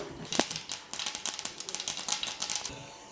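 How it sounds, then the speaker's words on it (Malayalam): Mustard seeds crackle in hot coconut oil in a pan, a rapid stream of sharp, close pops and spits that stay dense and irregular for the whole stretch. "കുറച്ച് കടുക് പൊട്ടിക്കാം."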